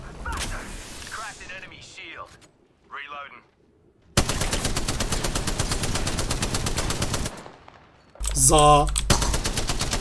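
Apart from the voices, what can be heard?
gunfire in the video game Apex Legends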